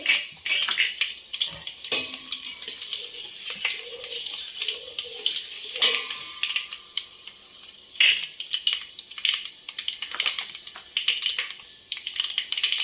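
Dried red chillies fry in a pan for sambar, giving a steady hiss and crackle with scraping stirs and occasional clinks of a utensil against the pan, close by.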